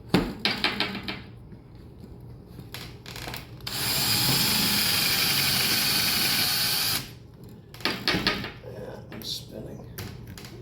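A power drill with a 1/4 inch bit drills out the rivets of a C4 Corvette power antenna, a steady high whine lasting a few seconds between clicks, handling noise and nearby talk.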